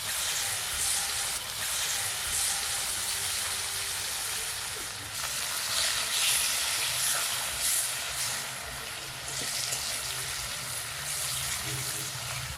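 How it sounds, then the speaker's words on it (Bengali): Mustard oil hisses and sizzles steadily in a hot wok, a broad, continuous frying noise that stays fairly loud and even throughout, with no talking over it. "কড়াই গরম হয়ে গেছে, সর্ষের তেল দিই।"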